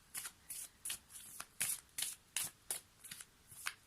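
Tarot cards shuffled by hand in a quiet room make about a dozen crisp riffling bursts at an even rhythm, close and fairly soft, with no talking.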